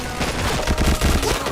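Rapid bursts of automatic gunfire from the online shooter game Point Blank, dense and loud, rattling continuously through the whole moment without pauses or talk.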